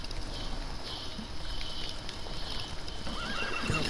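Roach, the horse in the video game The Witcher 3, whinnies and neighs over the quick clip-clop of hooves. The sound is fairly quiet, with steady ambient game noise underneath and no talking.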